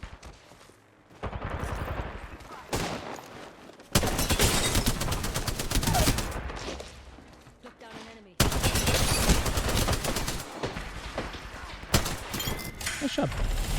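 Rapid bursts of automatic gunfire from an Apex Legends arena match, loud and close, with several separate volleys broken by short pauses and a voice speaking intermittently.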